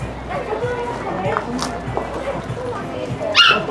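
Dogs bark and yip at an outdoor flea market in Ripley, Mississippi, several short barks scattered through the clip with a louder yelp near the end, heard over crowd noise and nearby talk.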